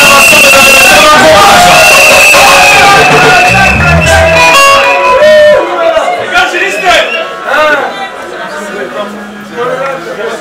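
A crowd cheering and shouting at an award ceremony honouring humanitarian work, loud whoops and excited voices that swell, then thin into scattered calls and chatter, with people talking throughout.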